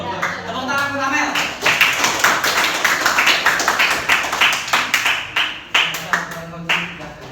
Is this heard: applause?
yes